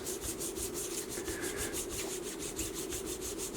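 Fine 12,000-grit abrasive rubs back and forth across guitar frets on a maple fingerboard in a steady, quick rhythm of soft, close scratchy strokes with no talking.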